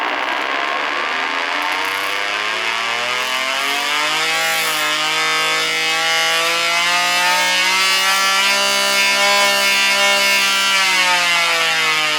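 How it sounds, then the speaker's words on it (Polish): A loud 3D-printed mechanical alarm siren drones continuously, its pitch rising steadily as it spins up and then holding a piercing, harmonic-rich wail. "Sprawdźmy więc jakie maksymalne natężenie dźwięku jest w stanie wygenerować taka wydrukowana syrena"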